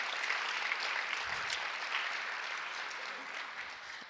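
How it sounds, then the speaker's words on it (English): A keynote audience applauds in a steady wash of clapping, fairly quiet and distant, holding for a few seconds before tapering slightly. "So give yourselves a round of applause."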